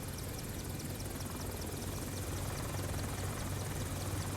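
AH-64 Apache attack helicopter in flight simulator MSFS 2024, its rotor and turbine roar droning steadily and loudly throughout with a fast rhythmic blade chop, no voices over it.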